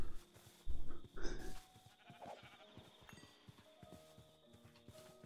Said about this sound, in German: Da ist noch ein Schaf, das kann ich erschlagen